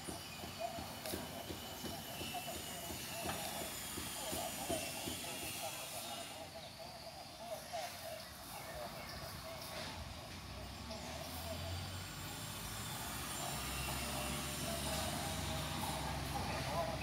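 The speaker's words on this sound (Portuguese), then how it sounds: "Agora tá passando o caminhão da reciclagem." A recycling truck passes by on a street, its engine rumble and hissing rising and swelling toward the end, with a person talking softly at times.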